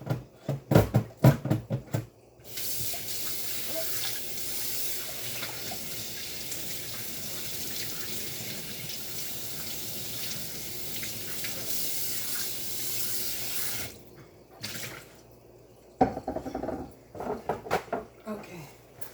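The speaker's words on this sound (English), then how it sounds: "And wash my bowl because now I'm going to get my cornbread started." A bowl rinsed under a running kitchen sink tap, a steady rush of water for most of the stretch, bracketed by clattering handling and a person talking at the start and end.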